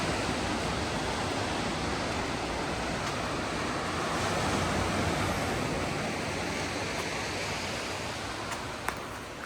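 Ocean surf rolls onto a beach in the United States as a steady, loud, broadband wash of breaking waves that barely varies over several seconds, with no voices.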